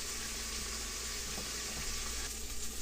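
Onions caramelize in a pan for a creamy root vegetable soup, giving off a steady, close, even sizzle with faint stirring clatter and no talking.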